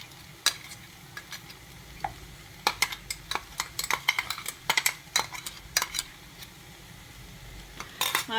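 A spoon stirs ground paste into carrot pachadi in a pan, with irregular scraping and clinking taps against the metal over a faint sizzle.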